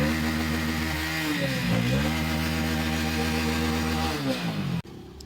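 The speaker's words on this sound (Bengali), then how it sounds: "আমরা কিন্তু কিকে স্টার্ট মারলাম, কিকে কিন্তু এক চান্সে হয়ে গেছে" A Hero HF Deluxe BS6 motorcycle with a flat battery, started by kick, runs loud and close with a steady engine note, dips briefly in a short throttle blip, then cuts off abruptly near the end.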